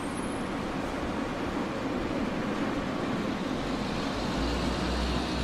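A Super Mix cement truck rumbles past on a road, a loud, continuous roar of engine and tires with a deep low rumble that swells slightly toward the end.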